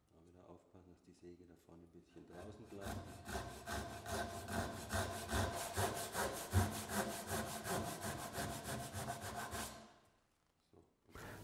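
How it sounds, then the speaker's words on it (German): A hand saw cuts down the inner edge of a wooden workpiece for a mitred slot-and-tenon joint with rebate, a close, steady rhythm of rasping strokes that speeds up and then stops. "Das Werkstück wird umgedreht und es wird dann wieder auf der Innenkante nach unten gesägt."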